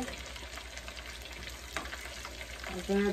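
Pieces of chicken frying in oil over medium heat, a dense, steady sizzle and crackle close by with a few stirring knocks, growing slightly louder at the end.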